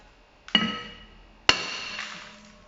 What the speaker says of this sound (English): get either a rubber hammer or a normal hammer and smack the drum on the sides to release it